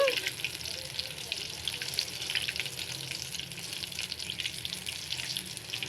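Mushrooms fry in a pan over a low flame, giving a soft, steady sizzle with faint crackles that run on evenly and quietly without any talk.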